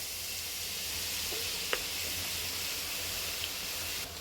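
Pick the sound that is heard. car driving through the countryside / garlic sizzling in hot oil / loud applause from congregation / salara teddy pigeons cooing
garlic sizzling in hot oil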